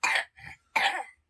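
An unwell young boy gives three coughs in quick succession: two strong, harsh bursts around a weaker middle one, close by, with no talking.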